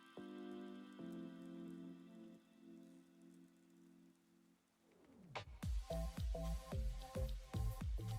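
Rain weather effect in a Pokémon video game battle, a wet patter of drops and splashes rising after a sustained tonal drone, with repeated sharp bursts in the second half.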